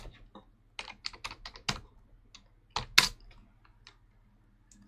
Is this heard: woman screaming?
no